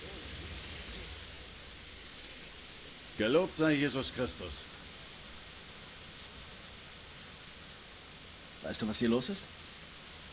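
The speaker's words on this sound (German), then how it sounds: "Und es regnet." Steady rain in the medieval video game Kingdom Come: Deliverance, a soft continuous hiss running throughout beneath two short bursts of talking.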